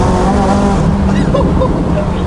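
A McLaren 570GT engine revs up under throttle from inside the cabin, a loud, dense rising roar with a climbing tonal whine that holds steady across the short burst.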